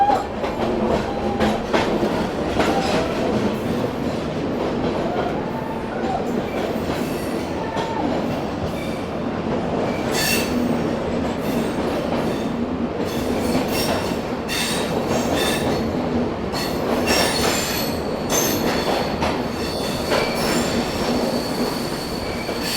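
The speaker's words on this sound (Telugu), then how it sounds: "ఈ కేవ్లో నుంచి అయితే పోతుంది ఇప్పుడు ట్రైన్." A passenger train on the Goa to Secunderabad line runs through a dark cave tunnel, its loud steady rumble heard close from on board, with squealing wheels and rattling carriages throughout.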